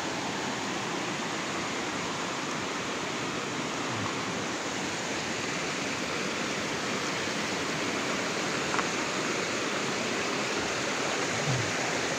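Rushing water of a clear mountain stream at Mount Isarog, a dense, unbroken broadband roar that stays steady and close throughout, with no voices over it.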